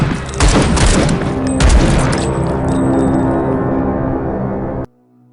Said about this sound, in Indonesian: Mereka saling baku tembak.